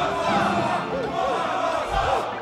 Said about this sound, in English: You hear the roar of the crowd.